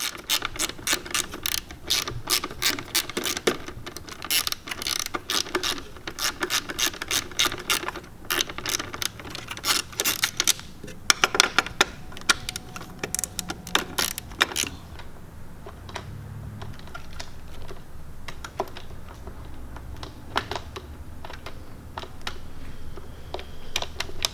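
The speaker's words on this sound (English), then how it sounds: "We're going to take the lower speaker pod bolts out first, so that way we can get the hard part out of the way." A ratchet works loose the lower speaker pod bolts on a 2019–2020 Harley-Davidson Electra Glide Standard, giving rapid runs of close mechanical clicking that pause and resume, then slower, sparser clicks and metallic handling toward the end.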